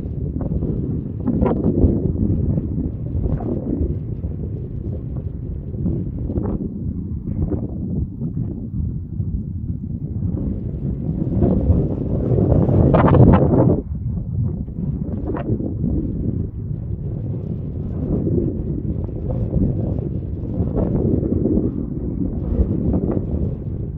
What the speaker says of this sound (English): Some wind, light wind.